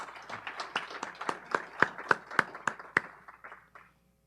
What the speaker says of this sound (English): Let's give Isabella a round of applause.